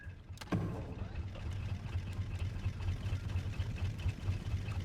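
Four engines on a raft in the survival game Raft run together as a steady, low, rumbling drone, with a sharp click and thump near the start and no talking.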